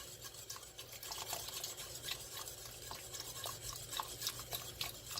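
Broth is poured slowly into a curry chicken soup while it is stirred, producing a steady wet scraping and swishing of a utensil in the pot with faint sizzling underneath and no talk.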